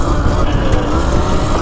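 A Yozma IN10 electric bike is ridden at speed, producing a loud, steady roar of motor and wind with constant rumble throughout and no breaks.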